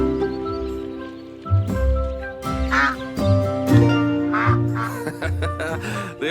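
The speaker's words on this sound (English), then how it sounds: "They also make a very distinctive sound. She's calling to her ducklings." A mallard hen quacks repeatedly beside a wetland pond, calling to her ducklings; a series of loud, nasal, close-up quacks in uneven bursts, with light rustling in the background.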